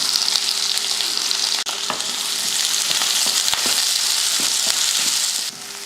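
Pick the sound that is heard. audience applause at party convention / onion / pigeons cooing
onion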